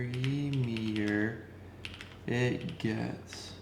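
A custom mechanical keyboard with heavily lubed Gateron Milky Yellow switches gives brief soft clicking keystrokes, partly masked by a person talking over most of the clip.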